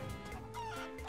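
A red chicken in the pirate video game Sea of Thieves gives a brief, soft series of clucks at close range.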